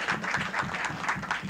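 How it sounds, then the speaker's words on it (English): An audience at a naval base leadership lecture applauds, a steady wash of clapping from many hands filling the room evenly, fairly near and sustained without pause. "Can we give him a round of applause?"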